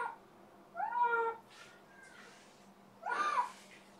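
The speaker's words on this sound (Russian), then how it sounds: "Кот, вернись на исходную." A cat meows twice, two short, clear calls separated by a brief pause, close by in a quiet room.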